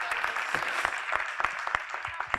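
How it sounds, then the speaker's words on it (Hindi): An audience at a book launch event applauds, with scattered, uneven claps at moderate volume over a few seconds, without a clear, steady rhythm. "ताली बनती है इनके लिए"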